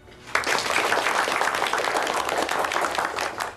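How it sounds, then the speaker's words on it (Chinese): Students in a classroom applaud together, a dense burst of clapping that starts abruptly and holds steady throughout, fairly close and alone. "同学们，怎么还不鼓掌？"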